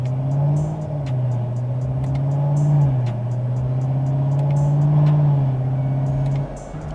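A cammed C7 Corvette engine drones in 5th gear on a dyno with the eddy brake turned down, its loud steady tone dipping and rising as revs shift before dropping off at the end.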